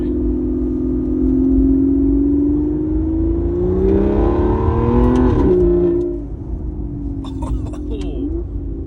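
An Aston Martin Vanquish Zagato Shooting Brake engine revs and accelerates steadily uphill under 4,000 RPM, its pitch climbing over several seconds before easing off, loud and close, with a little talk underneath.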